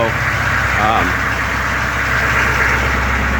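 A 2006 Humvee with a 6.5 diesel engine idles after an overnight cold start of about 16 degrees, giving a steady, continuous rumble close by in a garage with no breaks.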